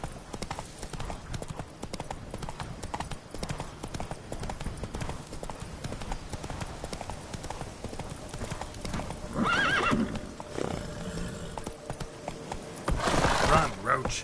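Roach, the horse in The Witcher 3, galloping with a steady drumming of hoofbeats throughout, broken by two louder whinnying snorts, with some speech mixed in.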